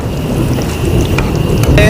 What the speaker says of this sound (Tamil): வெளியே பார்த்தீங்கன்னா புயல் மழையே வந்துருச்சு. மழை பெருசாயிடுச்சு.